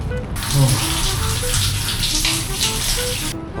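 Shower water running steadily in a bathroom, a constant close hiss and splatter that starts and stops abruptly, with faint tonal sounds underneath.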